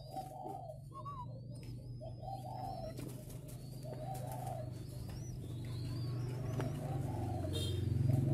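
An older female pigeon coos in repeated soft, low calls over a steady hum and distant traffic, with faint chirps from other birds, recorded where the birds are fed and watered.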